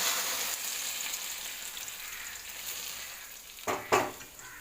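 Hot tempering of mustard seeds, green chilli and curry leaves poured into mango pulissery curry in a clay pot, giving a steady hiss of sizzling with a couple of sharp louder bursts near the end, no talk.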